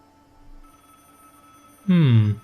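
In the video game Broken Sword, a telephone rings out with one loud, sharp electronic trill near the end, after a short stretch of quiet room tone and a faint voice.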